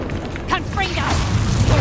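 Confringo blasting spell cast in the video game Hogwarts Legacy: a whooshing, chirping magical flare that swells into a dense, rumbling burst, up close and loud over steady game background sound.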